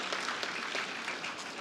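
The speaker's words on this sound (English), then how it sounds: "give a big applause to these doctors" An audience claps steadily throughout, a dense wash of applause with no pauses.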